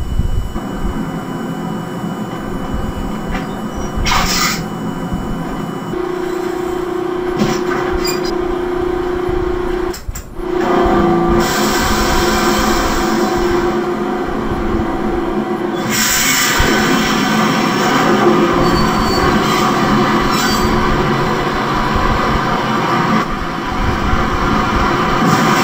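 A train in the video game Max Payne rumbles loudly and continuously, its wheels screeching in sustained metallic squeals, with sharper clatters and surges over the steady roar.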